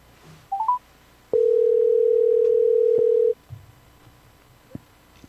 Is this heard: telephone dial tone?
yes